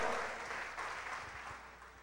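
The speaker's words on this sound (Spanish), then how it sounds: "denle un fuerte aplauso al Señor" Church congregation applauding during a Spanish-language service, a fairly faint, brief patter of clapping that fades slightly toward the end.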